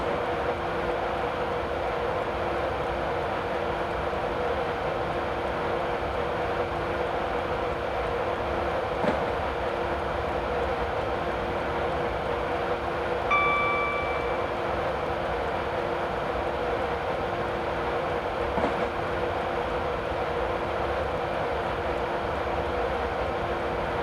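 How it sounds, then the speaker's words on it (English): A Class 91 electric locomotive in Train Simulator 2015 rolls along with its power idled, giving a steady, moderate rumble and wheel noise, with a brief whistle-like tone partway through. "I've just idled the power to allow the train to coast"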